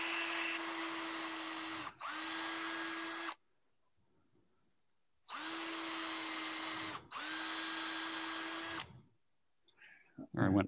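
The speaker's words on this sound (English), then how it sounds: "Then I'll drill it." A power drill whines in two sets of steady high-pitched bursts, drilling screw holes while making a spoon, each pair separated by a brief pause, with silence between the sets and a short clatter at the end.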